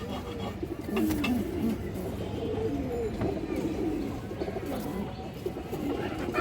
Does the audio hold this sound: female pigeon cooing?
yes